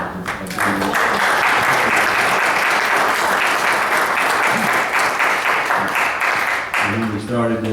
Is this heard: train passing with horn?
no